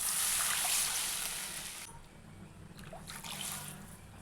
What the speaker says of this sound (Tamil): இந்த கப்லேயே இன்னும் 2 கப்பு தண்ணி சேர்த்தா போதுங்க